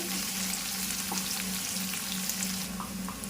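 Frying in a pan while preparing an amaranth leaf dish, a dense continuous sizzle with a few light stirring taps, close and steady, no voices.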